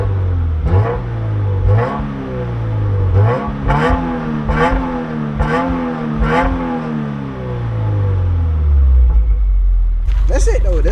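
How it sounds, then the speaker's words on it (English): A Subaru WRX with a new aftermarket exhaust gives a string of short, sharp revs close by, each rising and falling in quick succession over a rumbling idle, then settling back down. "here's some little baby revs"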